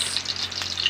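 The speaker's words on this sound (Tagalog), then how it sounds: "nagpapakulo kami ng mantika at saka nilagay yung bawang" Garlic fries in hot oil for squid adobo, giving a bright, continuous close sizzle with fine popping crackles and no pauses.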